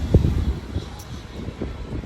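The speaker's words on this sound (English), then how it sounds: "Again, it's quite windy" Gusty wind buffets a microphone on an outdoor seaside walk, a low rumbling roar with uneven swells and thumps, loudest early on and steady throughout.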